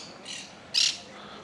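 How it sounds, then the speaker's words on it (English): Parakeets squawking and fighting overhead in an outdoor spot in Gran Canaria, two short harsh screeches, the second louder and sharper, heard from a moderate distance against light background noise. "Got little parakeets up there making their noise. They're having a fight."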